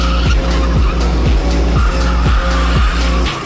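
Loud, continuous engine drone from small racing vehicles, with repeated tire squeals and skids recurring every half second or so, sounding close by.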